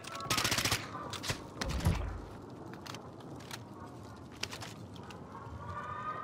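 An XM4 rifle fires in Warzone on Rebirth Island. Rapid bursts of automatic gunfire cut through a busy game mix, with sharper single cracks later and steady background noise throughout.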